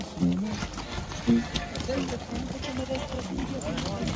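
Horses clip-clop along in a cavalcade parade through Uriangato, the hoofbeats steady under loud cheering and shouting from the crowd.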